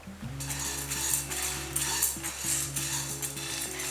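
Dry urad dal, white gram lentils, being stirred and roasted in a pan: steady scraping and soft clinking of a utensil against the pan with repeated stirring strokes, close and moderately loud with a continuous low hum behind.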